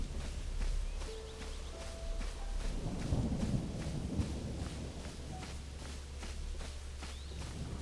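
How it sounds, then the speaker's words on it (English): A thunderstorm in the video game Zelda: Tears of the Kingdom, with steady rain hiss and a low rolling rumble of thunder swelling in the middle, continuous and fairly close. "Right during a thunderstorm."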